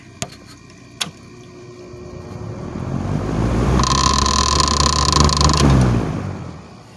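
After two sharp clicks, a 1980s Patton CA-1284 rotary grill fan is switched to high and whirs up to a loud, rattly roar with a whining tone, holds for a few seconds, then begins to wind down.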